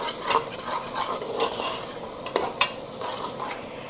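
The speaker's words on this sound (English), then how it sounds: "I'm going to let this keep frying" Curry duck sizzles and crackles gently in a pot, with a soft scrape of stirring and a couple of light utensil taps.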